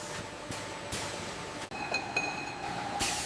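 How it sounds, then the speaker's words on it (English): Automated filling machines at a shampoo bottle factory, a continuous mechanical hiss and rumble with periodic sharp clinks and pneumatic bursts, steady and close throughout. "Next, automated machines fill each bottle."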